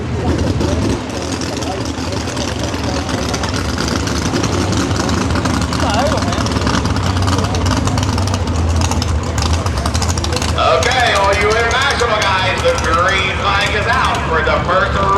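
Super/pro stock pulling tractor engine roaring steadily at a tractor pull event, a loud sustained throaty drone throughout with a rising higher tone near the end, under an announcer's voice over a loudspeaker.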